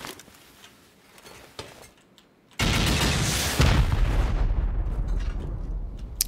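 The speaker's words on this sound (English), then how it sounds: "Gonna have to rocket these out." Rockets blasting open locked boxes in a video game: after a few quiet seconds a loud, sustained roar of explosions hits and rumbles on, with a second heavy boom layered in.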